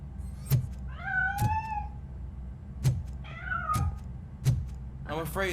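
A cat meows several times in the video game RoboCop: Rogue City, drawn-out mewing calls spaced between sharp knocking thuds over a low steady hum.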